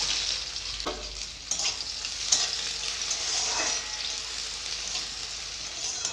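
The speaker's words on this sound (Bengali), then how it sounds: "চারটা শুকনো লঙ্কা দিয়ে দিব দুটো তেজপাতা এবারে দিয়ে দিব কুঁচানো পেঁয়াজ" Chopped onions fry in hot oil with four dried red chillies and two bay leaves, making a continuous close sizzle broken by a few light knocks and spoon scrapes.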